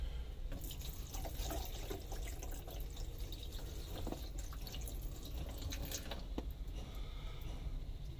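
Water poured into the leaking side of a travel trailer's RV drain pipe, a steady close trickle with scattered drips and splashes running continuously and evenly throughout.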